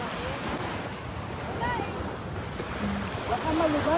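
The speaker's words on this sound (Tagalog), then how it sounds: "Ayan, yung dagat." Sea waves wash on the shore while wind buffets the microphone during fishing, a continuous rushing roar with faint distant voices and scattered high chirps.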